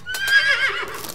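A horse whinnies in a single bright, wavering neigh while being ridden in the video game Citywars Tower Defense, loud and close with no talk over it.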